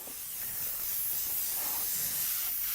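A spray gun lays light coats of paint over anodized parts, giving a steady, close, broadband hiss that runs unbroken and slightly swells in intensity, with no talking.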